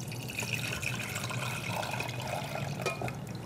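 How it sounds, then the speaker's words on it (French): A hibiscus-infused cream mixture is poured through a makeshift home strainer to remove the flowers, giving a soft, steady trickle of liquid that sits faint and close over low room noise. "Donc on va juste filtrer pour enlever les fleurs."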